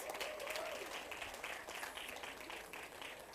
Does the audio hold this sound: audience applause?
yes